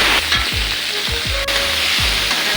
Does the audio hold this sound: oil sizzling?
yes